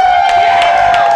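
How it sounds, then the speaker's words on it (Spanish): Audience cheering and applause at a live late-night TV show, a loud, dense crowd roar with clapping that carries steadily through the brief moment. "Un aplauso para todos"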